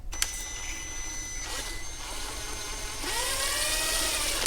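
An impact gun run in reverse to remove a shock absorber nut on AE86 suspension, whirring in short bursts with a rising motor whine near the end, close and fairly loud.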